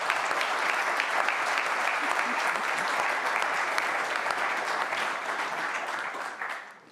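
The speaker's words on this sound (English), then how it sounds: "with a big, big, bright smile and with a round of applause to motivate all of you" Sustained audience applause at a robotics industry get-together opening, dense and steady clapping throughout before tapering off at the end.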